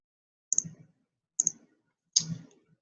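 Three separate computer mouse clicks, each a crisp double-edged tick, spaced about a second apart and fairly quiet, with no voices.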